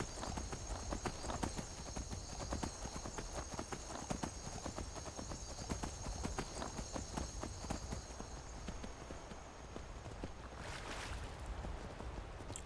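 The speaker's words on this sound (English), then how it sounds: "the horse also has a stamina bar, which means that it can't infinitely sprint" A horse gallops in the video game Skyrim, its hooves drumming a fast, steady clip-clop for the whole stretch, fairly soft and even, with no talking over it.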